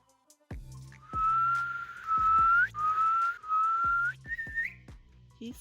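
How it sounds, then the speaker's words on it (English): A person whistles a sustained, wavering tune in several long phrases, clear and close, with a few sharp knocks and clicks underneath. "He sucks his whistle in."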